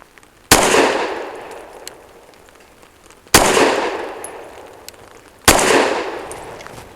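A BUL Armory Ultralight pistol fires Sig V-Crown 115 grain Elite Defense ammunition outdoors, three loud, sharp close shots spaced a few seconds apart, each with a ringing decaying echo.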